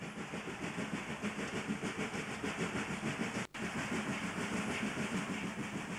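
Steam locomotive number 24, in original condition, running on the Richmond Vale Railway in New South Wales, Australia, with a steady rhythmic chuffing and clattering of the train that stays loud and continuous, broken by one very brief dropout midway.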